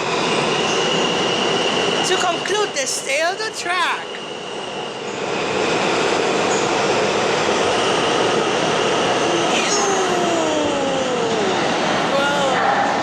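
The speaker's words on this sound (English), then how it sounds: "Let's wait for the L train to depart." An L train departs from the 3rd Avenue subway station, a loud steady rumble and roar of the cars with squealing wheels on the track, while someone speaks over it.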